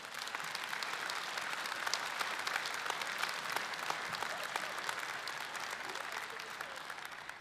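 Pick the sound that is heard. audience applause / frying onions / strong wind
audience applause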